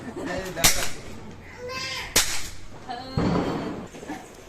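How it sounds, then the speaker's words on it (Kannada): Diwali firecrackers burst at a home festival celebration, two sharp loud cracks near the start and middle, then a longer crackling rush toward the end, with voices in the background. "ಬಂತು ಪಟಾಕಿ"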